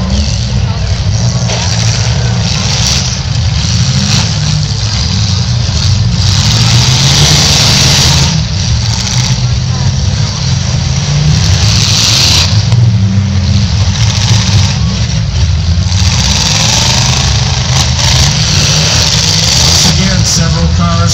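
Straight stock demolition derby cars rev and idle loudly at close range, engines rising and falling throughout with repeated throttle bursts, while crowd noise and an announcer's voice carry underneath.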